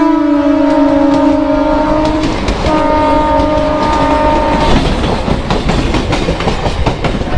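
A Howrah–Tarakeswar local train pulls into Srirampur station, its horn sounding in long sustained blasts over a loud rumbling run, then wheels and carriages clatter and grind as it slows.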